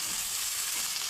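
Ginger garlic paste sizzles steadily in hot oil in a pan, a continuous close crackling hiss for a fish curry base, with no talking.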